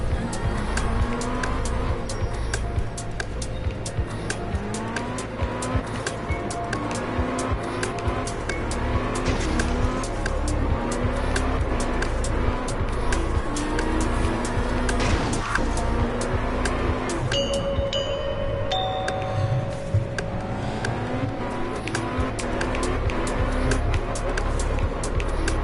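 Continuous drift-car engine roar with repeated tire squeals and skids from the racing game Absolute Drift, loud and steady throughout, shifting engine tones as the car slides.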